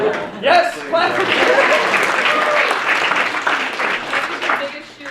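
Applause from a live audience at a leadership talk, a dense steady wash of clapping lasting the whole moment with some voices mixed in, fairly loud and close.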